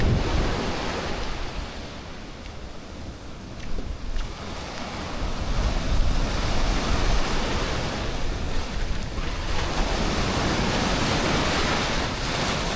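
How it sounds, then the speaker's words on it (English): Ocean waves in Playa del Carmen wash in under beachfront resort units, a loud, continuous surf roar with swelling surges and some wind buffeting, no voices. "The water's coming up under these units at Mahikal."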